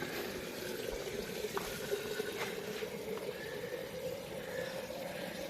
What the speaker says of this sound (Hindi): टूटी और थोड़ी स्लो कर दो ना